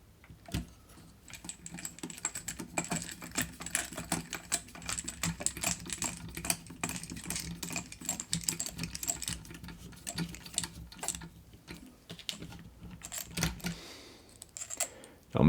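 Plastic risers are trimmed off a servo on an RC4WD Gelände II 4x4 scale truck kit, making a long run of small, close, irregular clicks and snips.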